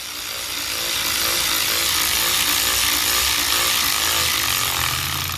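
Long neck ratchet working loose a fastener on a Ford Ranger pickup truck, a loud, dense buzzing whir that swells in and holds steadily for several seconds, no talking.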